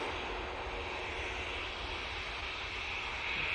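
An EasyJet airliner at Manchester Airport gives a steady broadband jet-engine roar, constant and moderately loud at a distance, with no voices.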